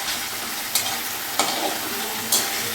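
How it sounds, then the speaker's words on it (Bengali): Fish with coriander leaves sautés in a pan with a constant sizzle, broken by three sharp stirring scrapes from a spatula, close by; no talking. "ভালো করে একটু কষতে হবে।"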